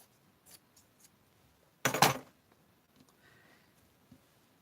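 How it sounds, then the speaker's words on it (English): Scissors snip through paper in a single loud, brief burst of cutting at a desk while packing orders with paper clips, with faint rustles and small handling clicks before and after in an otherwise quiet room. "I need my other scissors"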